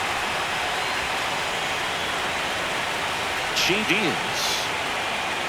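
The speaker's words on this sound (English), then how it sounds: "It feels like we might be headed towards a rain delay if the weather doesn't ease up" Steady heavy rain pours down during a ballpark game in MLB The Show 25, a constant close hiss of downpour, with a brief voice speaking near the end.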